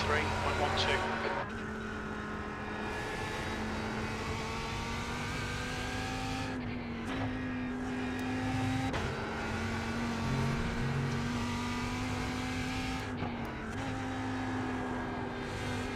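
Race car engine held at part throttle in iRacing during a VRS sprint series race, a steady droning hum with a sustained tone throughout, with voices talking over it.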